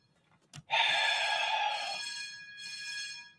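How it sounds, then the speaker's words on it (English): A building fire alarm sounds indoors, a loud sustained electronic tone starting abruptly after a brief click, holding for over a second, then continuing slightly quieter with a second burst toward the end, with no talking. "That's a fire alarm."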